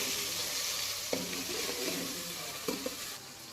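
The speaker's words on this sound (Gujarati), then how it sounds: "હવે 5 મિનિટ આપણે સડવા દઈએ।" Chilies and tomatoes with peanuts sizzle and are stirred in a pan for potato poha, a soft steady frying hiss with a couple of light utensil taps against the pan, close and quiet, no voices.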